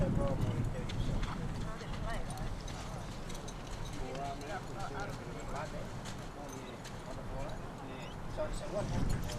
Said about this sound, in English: the horse are coming out